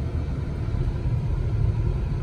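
A low, steady engine rumble from inside a moving 2008 Cadillac DTS with a Northstar engine and factory dual exhaust, a constant droning hum with road noise and no talking.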